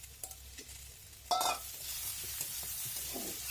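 Spoon stirring tengra fish curry with turmeric and salt in a pan, soft scrapes and clinks over a faint sizzle, with one sharper metallic knock partway through.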